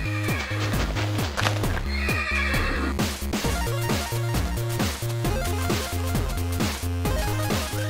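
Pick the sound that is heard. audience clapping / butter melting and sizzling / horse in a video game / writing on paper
horse in a video game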